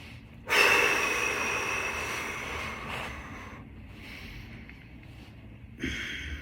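Heavy breathing during a Kinstretch rotation stretching session: a sharp, forceful breath followed by a long, strained, airy exhale and a second strong breath near the end, close to the microphone with no talking.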